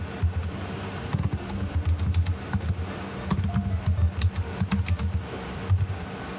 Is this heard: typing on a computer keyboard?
yes